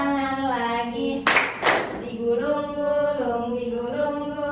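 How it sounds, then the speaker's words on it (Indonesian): Two sharp hand claps ring out close together in a classroom, set between stretches of a woman's sung, melodic instruction to the pupils. "tepuk tangan lagi."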